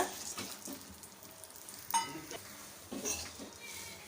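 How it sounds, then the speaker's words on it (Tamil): Urad dal dry-roasting in a pan over a medium flame, quiet scraping and stirring strokes with soft rattling of lentils against metal, a few sharper clinks of the spoon, faint and close with no talking. "இப்போ இதை வந்து நம்ம நல்லா வறுத்துக்கலாம் இந்த உளுத்தம்பருப்பு பருப்பு"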